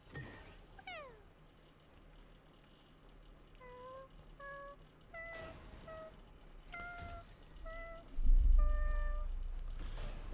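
A pet cat meowing repeatedly at close range, several rising and falling meows spread across the stretch with some handling rustle and a louder bump near the end.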